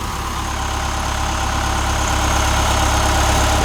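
A Trackless MT5 snowblower engine idles with a steady, loud, low rumble and constant vibration, running evenly throughout the clip with no other sounds.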